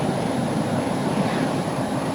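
An aircraft engine in the VR shooter H3VR holds a steady, loud broadband roar throughout, with no talking over it.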